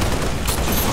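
Sustained burst of plasma pistol fire in Halo Reach Firefight co-op mode, a dense continuous crackle lasting about a second with a brighter high hiss toward the end.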